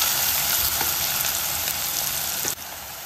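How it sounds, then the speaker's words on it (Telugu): Sliced onions and green chillies fry in hot oil in a pan with a dense, steady sizzle, close and loud, and a brief dip in the sound near the end. "ఉల్లిపాయలు పచ్చిమిరకాయలు ఫ్రై అవుతున్నాయి."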